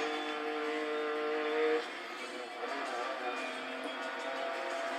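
A car drifting in the video game Need for Speed, a sustained engine drone with a high tonal whine that cuts off, followed by a steady rumbling roar.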